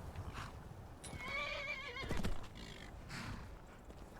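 A horse in modded Skyrim lets out a shrill, wavering whinny as it rears, then hooves thud and clop nearby; fairly faint overall.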